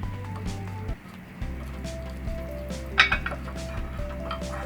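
Lemon DIY skin paste being stirred in a bowl, with a few light clinks and scrapes of utensil against the dish over a low steady hum and a soft background tone.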